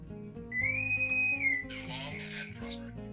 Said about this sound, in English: different noises, because of course the Enterprise is switching off